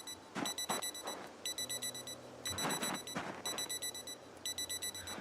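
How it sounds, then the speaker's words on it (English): Electronic alarms ring during a Project Zomboid-style survival game stream, repeated rapid beeping bursts in clusters with brief gaps, fairly quiet, with some background thuds between them. "you guys are going to have to put up with alarms for a bit"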